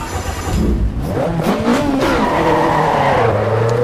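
A rear-wheel-drive car drifting in the racing video game Assetto Corsa Evo, its engine revving hard and rising in pitch while tires squeal and skid, loud and close throughout with no talk.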